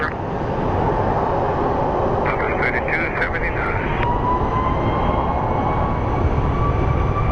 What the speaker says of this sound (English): And up next we have a United Airlines flight